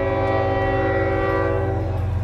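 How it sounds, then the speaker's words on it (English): A passing train sounds its horn loudly and steadily, with the low rumble of the rail cars rolling close by underneath, and no talk. "Would you say it ain't a real video until you hear that train?"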